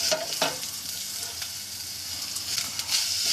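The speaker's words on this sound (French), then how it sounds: "toujours de l'huile d'olive, des oignons ciselés. On les fait suer délicatement." Finely chopped onions sweat gently in olive oil in a small saucepan, a soft steady sizzle with occasional stirring knocks, close by and without voices.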